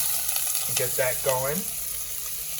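Plant-based chicken pieces sizzle in gravy in a pan, a steady hiss and crackle running throughout beneath a short spoken remark.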